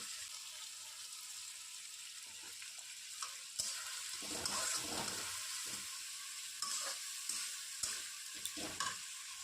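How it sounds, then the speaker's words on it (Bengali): Spices frying in oil in a pan for a potato and rajma curry, stirred with a spoon: a steady close sizzle with irregular scraping stir strokes, growing busier in the middle and toward the end, no talking. "তারপর এগুলিকে ভালো করে নাড়িয়ে চাড়িয়ে অল্প সময় আমি এগুলিকে কষিয়ে নেব"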